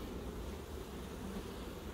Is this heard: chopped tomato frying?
no